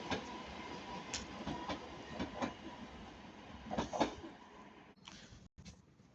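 Northern Class 331 electric multiple unit 331025 running from Manchester Airport to Blackpool North at Ardwick, passing close by with a steady rolling roar and rhythmic wheel clicks over rail joints, easing off near the end.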